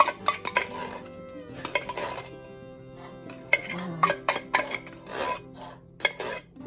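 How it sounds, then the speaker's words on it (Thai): Canned dog food being mixed with rice in a bowl, with scraping, clinking utensil strokes against the bowl in irregular bursts, close and fairly quiet, with short pauses between strokes. "จะเอาอาหาร กระป๋องนะคะ ผสมกับข้าวข้าวสวยข้าวข้าว ข้าวสวยนะคะ"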